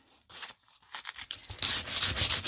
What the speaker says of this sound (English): I have 120 grit sandpaper, and it was to sand it down till you could start seeing some white